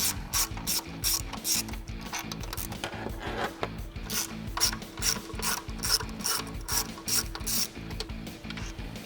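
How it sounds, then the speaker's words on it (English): A 1/4-inch drive ratchet clicks rapidly in repeated bursts while backing out 8mm bolts from the throttle body of a 2013-2022 Charger 5.7L/6.4L HEMI, close and crisp with no talking. "I'm going to use my 1/4" drive ratchet to remove them and remove our throttle body."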